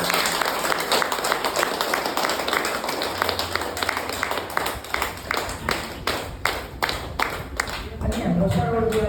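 An audience claps together, starting as a dense, continuous wash and settling into slower, more rhythmic claps toward the end, with a voice speaking briefly at the close.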